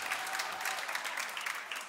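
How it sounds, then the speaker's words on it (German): Audience applause at a German stand-up comedy show, a steady wash of clapping that holds at an even level for the whole stretch. "das ist das einzige Mal, dass ihr Applaus von irgendjemandem in eurem Leben bekommen werdet"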